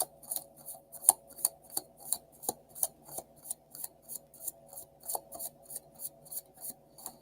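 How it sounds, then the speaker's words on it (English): Tarot cards are riffled in a steady rhythm of crisp, rapid flicks, about two per second, close and alone. "One more shuffle."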